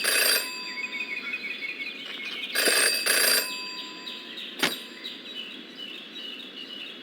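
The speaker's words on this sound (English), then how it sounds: "Jenny had learned never to ignore a ringing phone" Telephone ringing in the Jenny LeClue adventure game, with three loud bursts of bright ringing separated by pauses, followed by a sharp short clang and a faint lingering tone.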